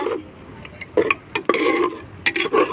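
A spoon stirs turmeric and salt into mutton curry in a pot, making a handful of short scraping and clinking strokes in an uneven rhythm over a faint simmer.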